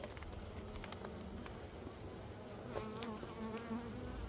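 Honey bees buzz around an open hive, a faint, steady hum with scattered louder passes of individual bees flying near.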